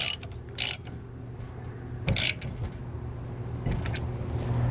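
A ratchet tightens a weight distribution hitch on a trailer setup, giving a few short clicking bursts of the pawl against a low mechanical background, close by, with no talking.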